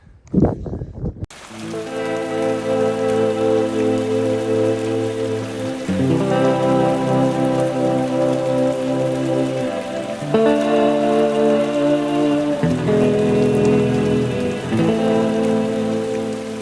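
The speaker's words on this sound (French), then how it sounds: "Il pleut énormément" Steady, dense hiss of heavy rain pouring down close by on a muddy trail, continuous and loud throughout, with no voices.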